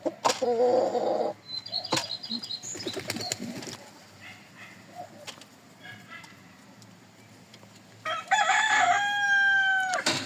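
Ornamental chickens cluck and chatter close by in their coop while a rooster lets out a loud, drawn-out crow near the end, with scattered bird calls throughout.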